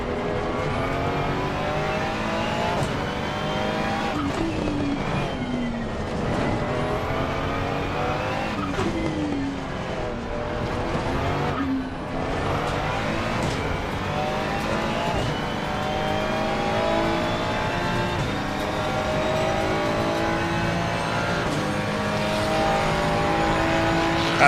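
A Ford Mustang race car in the Assetto Corsa driving game roars without a break, its engine rising and falling through revs and gear changes while the tyres squeal through low-speed turns.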